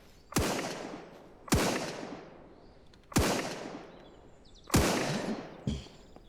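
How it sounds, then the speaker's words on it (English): Gunfire from another player or character echoes through SurrounDead: five sharp single shots spaced roughly a second or more apart, each followed by a long decaying echo, moderately distant with no talking. "Secondly, there is somebody else shooting."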